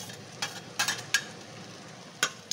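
Crushed ginger, garlic and chilli go into hot oil with onions for a homemade chicken dish, giving a soft steady sizzle broken by several short sharp scrapes of stirring, close and alone.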